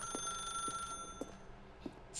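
Telephone bell ringing in the video game The Stanley Parable, quiet repeated short rings spaced about half a second apart over a steady faint electronic hum, with no voices.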